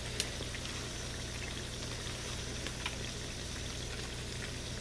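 Pork sirloin chops sear in a 12-inch skillet over a raised flame, a steady, fairly quiet sizzle with a few faint pops, no talking.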